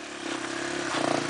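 A dirt bike engine revving on a muddy trail, a brief, loud, sustained buzzing rev that swells slightly toward the end.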